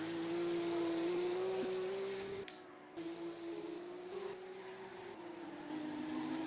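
A silver Porsche race car crosses the finish line at the Swedish Grand Prix, its engine holding a loud steady drone, dipping briefly with a gear change, then carrying on, with no voices.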